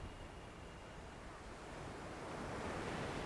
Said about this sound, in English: You can see the beautiful ocean